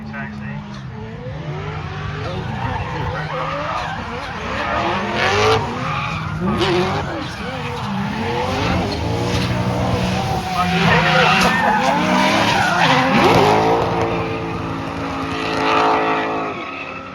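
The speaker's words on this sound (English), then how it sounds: "Tandem drifting again." Two cars drift in tandem at a Tunerfest North drift event, their engines roaring steadily while tyres squeal and skid continuously. An announcer talks over the action.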